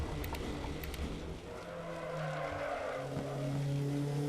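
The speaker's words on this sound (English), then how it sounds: "Okay, gonna have to brake hard for that." Race car braking hard at Brands Hatch in Assetto Corsa, with a steady engine drone and a sustained tire skid that rises and holds near the end.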